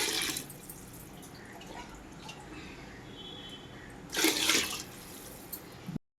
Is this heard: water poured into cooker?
yes